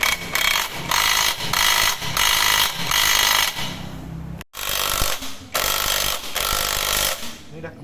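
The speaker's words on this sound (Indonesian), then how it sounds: "kencangkan baut atau mur yang ada di roda" A power tool tightens the wheel bolts on a Vario 125 motorcycle in loud, close bursts of rattling, hammering impact. The bursts come in a steady series with short gaps and one abrupt stop near the middle.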